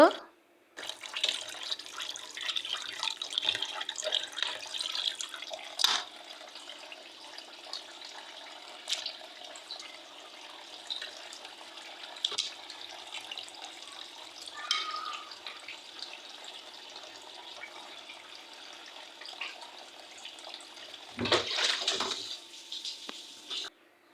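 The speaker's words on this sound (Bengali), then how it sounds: "মাংসগুলো ভালো করে ধুইলাম" Water runs steadily from a tap with a broad, rushing hiss as chicken is washed, broken by a few louder splashes and clatters near the end.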